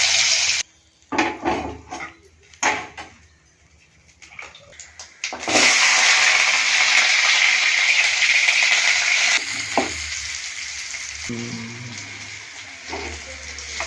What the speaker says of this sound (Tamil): கடுகு தாளிச்சு, கடுகு, வெங்காயம், கருவேப்பிலை,